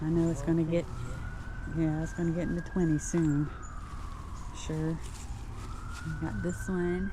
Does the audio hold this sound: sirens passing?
yes